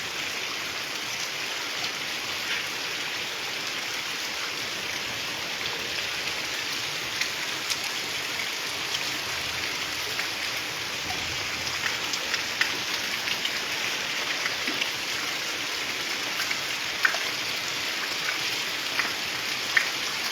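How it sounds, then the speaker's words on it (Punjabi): A continuous wash of heavy rain falls without a break, a broad steady hiss with occasional drips standing out, and no voices. "ਮੀਂਹ ਜ਼ਬਰਦਸਤ ਹੋਈ ਜਾਂਦਾ"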